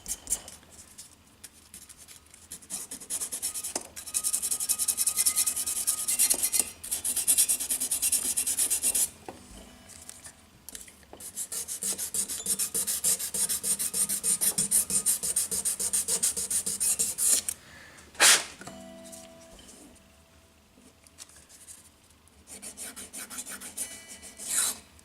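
Fine-grit sandpaper rubbed across the nut of a Tradition G10 Strat-style guitar, a dry scratchy rasp coming in repeated close strokes with short pauses, loud and alone.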